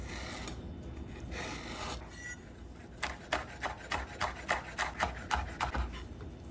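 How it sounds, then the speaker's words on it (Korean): A knife finely chopping a seeded red chili pepper on a cutting board: a quiet scrape, then a run of about ten steady, evenly spaced cuts, close and clear with no talking. "숟가락으로 씨를 뺀 다음에 아주 잘게 썰어 주세요"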